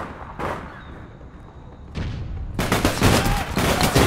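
Bursts of gunfire from the shooter game APB Reloaded, a brief shot early on, then dense, loud rapid firing over the last two seconds, with voices faintly in the mix.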